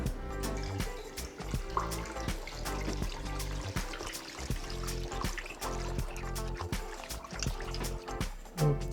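Homemade fruit wine pours steadily from a bucket on a small farm, a continuous close splashing and trickling stream with small drips and gurgles throughout.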